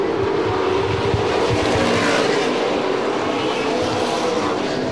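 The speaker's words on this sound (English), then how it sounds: "Joe Boyd locked up right down on the inside of the track, the preferred line coming up off of four" Super late model race cars circling a short oval track, a dense, loud engine roar with cars sweeping past close by, filling the whole stretch without pause.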